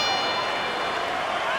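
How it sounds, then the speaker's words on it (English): A boxing bell rings to end a round during a fight, a sustained metallic ringing that holds steady and loud across the moment, with no talk over it. "The bell to end that round."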